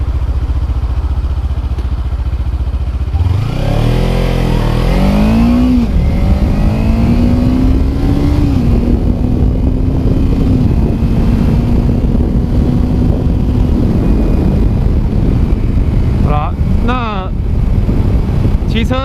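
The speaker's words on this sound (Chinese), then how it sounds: "因为高档位它扭力不够，所以就降档、降档、降档。" A manual motorcycle engine revs up and then drops through the gears toward a stop, its pitch sweeping up and settling into a steady drone, with a few short throttle blips near the end.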